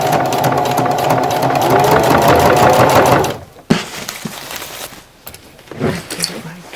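A sewing machine stitching ribbon fed from the spool onto a garment bag: a fast, steady mechanical chatter for about three seconds, then it stops and brief handling clatter and shuffling follow.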